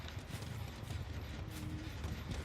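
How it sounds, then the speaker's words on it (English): Footsteps patter faintly and steadily all around in a 2v8 online multiplayer game, a low, continuous rhythmic shuffle without speech. "I hear footsteps all around me."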